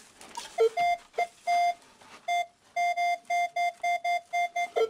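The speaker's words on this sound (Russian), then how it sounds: "Блин, коротенький сигнал такой интересный, а?" A metal detector sweeping over clay in an attic while treasure hunting gives a run of short, high, even beeps, starting irregular and then settling into a quick steady rhythm, loud and close with no voices.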